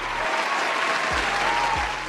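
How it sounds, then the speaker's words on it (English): A crowd claps steadily and loudly, a dense unbroken wash of applause. "I want to give him a round of applause"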